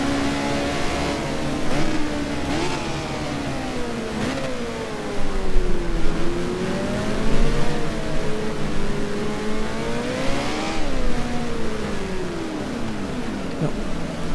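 A Formula 1 race car in the F1 Challenge video game, running worn wet-compound tyres on a drying asphalt track, revs steadily and loudly throughout, its engine pitch sweeping up and down through gear changes and corners without any voice.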